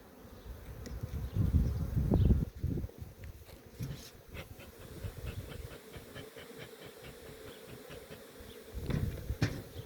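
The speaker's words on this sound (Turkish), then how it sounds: "Arılar asabileşti iyice." Dense, agitated buzzing of many honeybees close up at an open beehive during hive inspection, surging loudest at the start and again near the end, with no voices.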